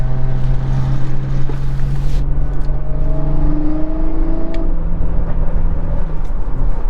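A car running an MHD Stage 2 tune revs under throttle, a loud low engine drone rising and shifting in pitch as it accelerates, with road and wind noise inside the cabin.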